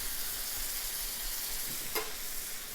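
Meat and onions fry in a pan for a Philly cheesesteak, giving a steady, loud sizzle with faint stirring scrapes and no talking.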